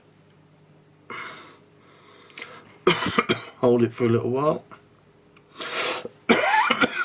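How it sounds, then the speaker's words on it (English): A person coughs in several harsh bursts, with throat clearing and breathing between them, and a short spoken line in the middle. "Excuse me, I'm still coughing."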